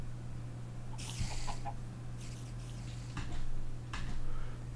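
In a survival video game, a chicken gives a few scattered clucks and short calls over a steady low hum and ticking ambience, fairly faint and without speech.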